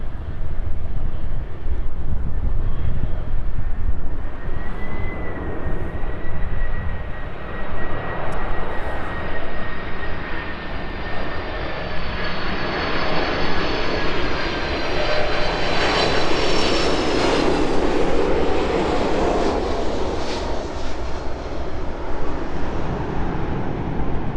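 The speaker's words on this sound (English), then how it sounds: "Quite a bit of sound as those reverse thrusters deploy there on the 747" Saudia Boeing 747 cargo jet landing at East Midlands Airport in the evening, a loud, sustained jet roar with whining engine tones that swells as reverse thrust deploys, heard from a distance with wind buffeting the microphone and no talking.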